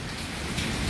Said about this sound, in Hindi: और भाई फुल तूफान आ रहा है, कहाँ पुलकित भाई बता रहे हैं